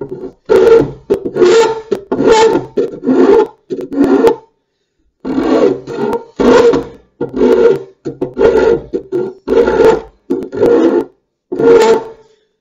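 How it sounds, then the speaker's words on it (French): A file rasps along a maple axe handle in about a dozen firm, evenly spaced strokes, loud and close, with one short pause partway through and no talking. "où je vais vouloir utiliser une lime"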